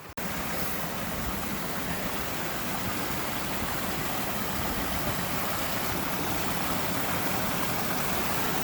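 Water of a stream flowing over rocks across a hiking trail, a steady broadband rush close by that holds even throughout, with no voices.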